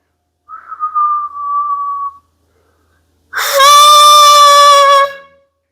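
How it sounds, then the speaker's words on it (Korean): Two whistled notes for a saxophone embouchure demonstration: a soft, thin steady tone that fades away, then after a pause a louder, fuller, rich-harmonic whistle held for about two seconds, alone with no talk. "휘파람"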